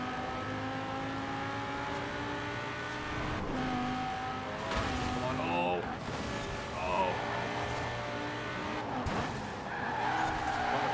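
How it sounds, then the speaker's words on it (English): In Forza Horizon 4, a Lamborghini Huracan engine howls and shifts pitch as the car spins out, with tire skids and squeals rising and falling across the stretch while someone talks over the racing. "Oh, going into spin."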